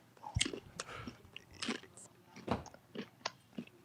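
A person chews a crunchy snack close to the mic, with about eight distinct crisp bites and crunches in an uneven rhythm.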